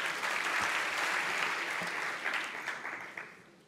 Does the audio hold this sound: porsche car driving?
no